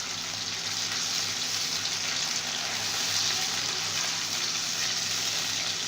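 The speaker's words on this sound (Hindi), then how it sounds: "पहले थोड़ा सा पानी डालेंगे और प्याज का कलर आने तक इसको हिलाएंगे।" Chopped onions being stirred in a little water in a pot for Pakistani zeera rice, a soft continuous hiss and gentle watery sizzle at low level with no talking.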